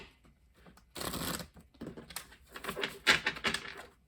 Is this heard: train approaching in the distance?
no